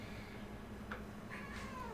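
A cat meows indoors, two short faint mewing calls in quick succession, the second one drawn out, over a quiet background hum.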